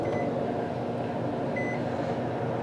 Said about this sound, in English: So I'm gonna pop this in the microwave,